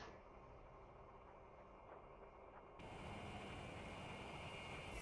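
Muffled mechanical droning of a surveillance drone in the video game inFAMOUS First Light, steady and fairly faint, stepping up abruptly in loudness and brightness halfway through.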